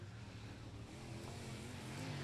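A race car engine drones steadily at high revs during a qualifying lap at Hidden Hollow Speedway, heard from a distance with a rising pitch as it winds up through the turns.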